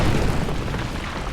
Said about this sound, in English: They explode too?